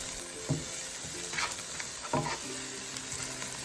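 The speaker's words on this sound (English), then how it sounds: "add the remaining spices into the pan and just give it a good mix until the spices are fully incorporated with the rest of the meat" Mutton and spices fry in a pan with a constant soft sizzle, while a spoon scrapes and stirs the meat in a few distinct strokes.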